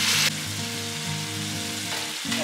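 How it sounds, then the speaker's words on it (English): Chicken curry in a pan sizzles with a brief burst of stirring at the start, then a steady frying hiss and a low hum run underneath. No voices. "After 20 minutes, give it a nice stir."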